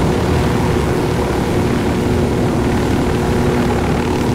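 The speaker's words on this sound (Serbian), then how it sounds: "Pazi, ide još jedan avion," A low-flying airplane in the video game Ghost Recon Wildlands drones past, a steady loud propeller-engine hum filling the whole moment with no talk over it.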